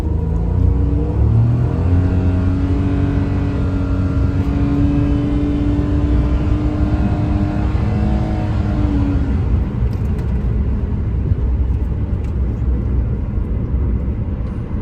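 A Nissan Dayz Highway Star turbo 660cc petrol car, traction control off, accelerates hard, its engine droning loud and close with a pitch that rises over about nine seconds, then a steady roar of road noise.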